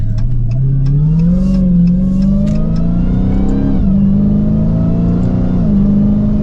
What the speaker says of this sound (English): And with a mild acceleration, we're up to speed.